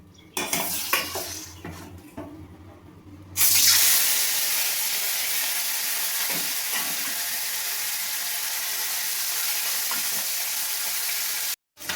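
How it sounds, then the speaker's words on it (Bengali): Mourola fish go into hot white oil in a wok: a few seconds of clattering utensils, then a sudden loud, steady sizzling hiss that holds close and even until it cuts off. "এবার আমি মাছগুলো ভেজে নেব।"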